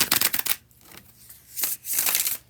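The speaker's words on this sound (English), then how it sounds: "I'm going to go ahead and do the bridge shuffle." A deck of cards riffled in a bridge shuffle: two bursts of rapid fluttering card clicks, close and crisp, with a brief quieter pause between them.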